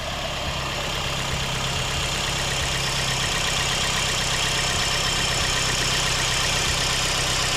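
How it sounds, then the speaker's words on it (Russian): A 2005 Toyota Succeed's 1NZ-FE petrol engine idles smoothly, giving an even, continuous hum with a low steady rumble and no revving throughout, heard up close. "Вот так вот мягенько работает мотор."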